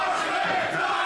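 A wrestling arena crowd cheers and roars loudly in a sustained, dense swell of voices, with no distinct speech standing out.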